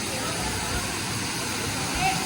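Waterfall at a falls in La Union, a steady broad rushing roar of falling water that fills the whole moment, close and constant.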